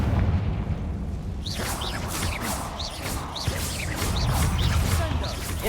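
Hogwarts Legacy Confringo fire spell casts, a rapid series of bursting blasts and whooshing fiery impacts layered over dense game combat noise, repeating in quick succession across the clip.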